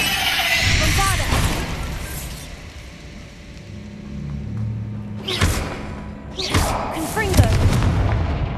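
Bombarda explosion spells burst in Hogwarts Legacy, a loud booming blast at the start that fades, then two sharp crashing explosions in quick succession near the end, with a voice calling out between them.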